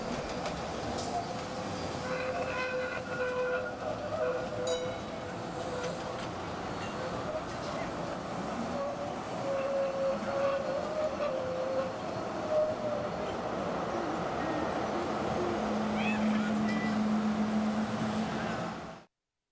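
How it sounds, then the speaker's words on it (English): A SEPTA Route 34 light-rail trolley car emerges from a Philadelphia subway portal, its steady rumble and wheel squeal rising and falling over traffic noise before the sound cuts off abruptly. "The Route 34 car emerges from the portal and veers to its right"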